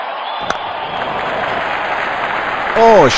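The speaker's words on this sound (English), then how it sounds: "Crowd going mad here." A crowd roars continuously in a cricket stadium during an IPL match between RCB and CSK after a six is hit. The noise is loud and broad and swells near the end.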